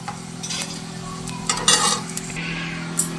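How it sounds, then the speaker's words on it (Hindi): Edible gum (gond) and fox nuts (makhana) fry in oil in a pan, a soft sizzle under scraping stirs and a few light metallic clinks from a utensil. "तो सारे गोंद इसी तरह से हम फ्राई करके निकाल लेंगे।"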